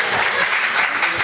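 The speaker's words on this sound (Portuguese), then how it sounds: "podem bater palmas ao Eduardo" An audience claps for Eduardo in a dense, even burst of applause, loud and close, with no voices over it.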